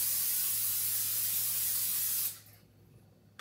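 A continuous close hiss of cooking spray coating a 9 by 13 casserole dish for about two seconds, then stops abruptly, leaving quiet room noise.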